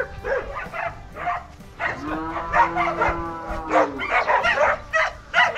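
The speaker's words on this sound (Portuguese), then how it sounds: "Ó, tocando as vacas no curral." Dairy cows moo repeatedly as they are herded into a corral on a farm, several long, loud calls close by, with brief human shouts and a dog's bark mixed in.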